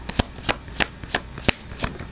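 A deck of tarot cards riffled and shuffled by hand at a reading, six or seven crisp papery bursts in a steady rhythm, close and fairly loud with no talking.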